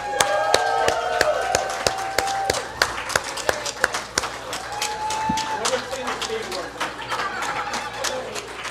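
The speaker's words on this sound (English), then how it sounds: "One more round of applause." Applause from an audience at a tiki night event, scattered sharp claps under a man's speech, uneven and moderately close.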